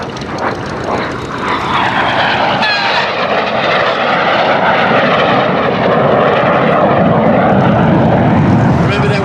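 Red Arrows synchro pair jets fly the carousel crossing manoeuvre at a Duxford air display, a loud, sustained roar that swells as the aircraft pass close overhead.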